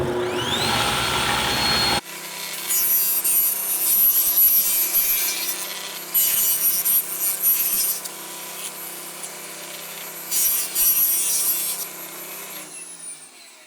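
Saw blade cutting very thin wood stock, under a sixteenth of an inch thick, against a zero-clearance fence, a continuous loud rasping whine with a steady high tone, swelling in a few louder bursts before stopping.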